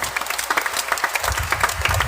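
Church congregation clapping loudly during a homily, a steady patter of many hands at moderate distance, with no talk over it.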